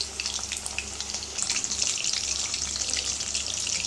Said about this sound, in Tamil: சிக்கனை வந்து எண்ணெயில் போட்டவொடனே திருப்பக்கூடாது ஒரு ரெண்டு மூணு நிமிஷத்துக்கு நல்லா வேக விடுங்க